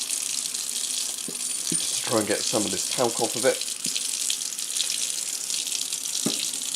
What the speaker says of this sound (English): just put it in the sink with a load of hot water, or lukewarm water,